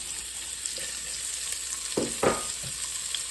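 Onions sizzle in a Dutch oven at the start of a beef short rib braise, a steady close hiss with a couple of brief scraping stirs near the end, no voices.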